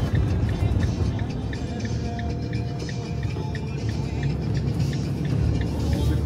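A car sets off on a trip from Kelmė, heard from inside as a continuous low engine and road hum with faint rhythmic ticking, steady and fairly loud.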